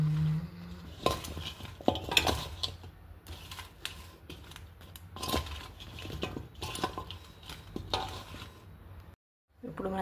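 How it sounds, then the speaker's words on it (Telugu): Chili powder and salt stirred together for mango pickle, spoon scraping and clinking against a bowl in irregular close taps and scrapes, with a brief silent pause near the end. "దీనంతా ఇప్పుడు కలిపేసుకుందాం."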